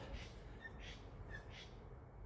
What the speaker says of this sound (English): with the birds making those lovely noises